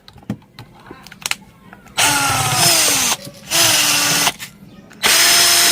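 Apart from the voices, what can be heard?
power drill removing screws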